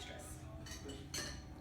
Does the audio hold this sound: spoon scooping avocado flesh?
yes